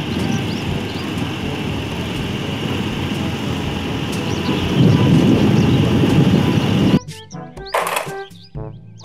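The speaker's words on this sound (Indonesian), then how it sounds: "Kereta cepat." A high-speed train rushes past as a loud, dense rumbling roar that swells midway, then gives way abruptly to quieter clunks and tonal sounds.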